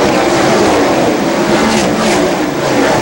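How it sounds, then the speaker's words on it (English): Racing trucks roaring past at North Wilkesboro speedway, a loud dense engine drone filling the track with steady howling revs and no break. "Really fast, pretty trucks."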